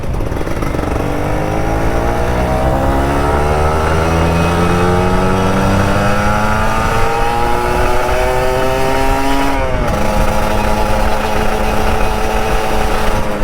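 An older Kawasaki Ninja RR 150 two-stroke motorcycle rides through rainy traffic. Its high, buzzing engine revs up and down in repeated rising sweeps with a brief throttle drop midway. The sound is close and continuous, with no talking.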